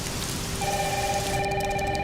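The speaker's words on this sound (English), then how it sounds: "It's really coming down hard." Heavy rain falls in a steady wash of noise throughout, with an electronic telephone tone starting partway and sounding over it.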